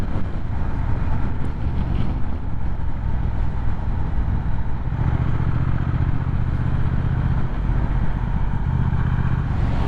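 Triumph Speed Twin motorcycle being ridden on the road, a continuous loud engine drone with heavy wind rush over the microphone, steady throughout with a slight rise in low rumble midway.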